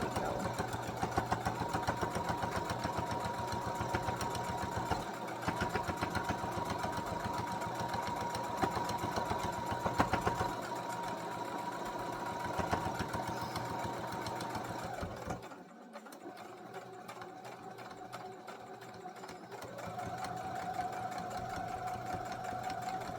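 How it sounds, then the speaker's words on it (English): A sewing machine stitches bookmarks in a quiet, steady mechanical whir with a fast rhythmic clatter, running for about fifteen seconds, briefly dropping off, then resuming more softly near the end. "when the sewing machine gets stuck"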